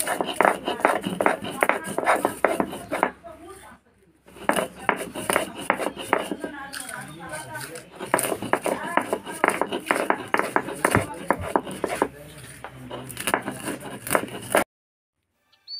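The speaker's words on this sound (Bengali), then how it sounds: "এবার শিলনোড়ায় বেটে নেব" Warmed whole spices such as cardamom, cinnamon and dried fenugreek leaves are ground on a stone slab with a stone muller, giving rapid repeated scraping and grinding strokes that run continuously and close up, with a brief pause midway.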